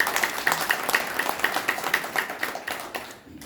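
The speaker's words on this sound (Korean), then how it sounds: "여러분들 그렇게 생각하시면 큰 박수 한번 올려주시기 바랍니다" A crowd claps in a steady, even rhythm, several claps per second, fairly close, fading out at the end.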